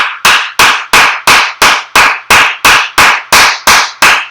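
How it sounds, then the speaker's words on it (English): A dozen evenly spaced sharp claps, loud and close, ringing out one by one in a slow steady rhythm. "Let's have a round of applause for the crazy New York driver."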